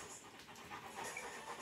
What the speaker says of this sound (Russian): Ав, собачка.